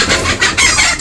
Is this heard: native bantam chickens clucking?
yes